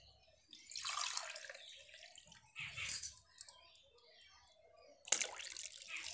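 Water poured by the glassful into a cooking pot while making rice papad, giving a few splashing bursts with quieter gaps between them and no talking.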